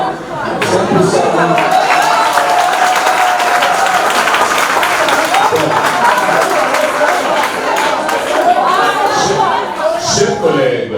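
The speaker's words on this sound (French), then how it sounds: "nous avons tous entendu les applaudissements des étudiants" Students applauding at a round-table discussion on language sciences in a hall, loud sustained clapping from a large crowd with cheers and chatter mixed in, swelling again near the end.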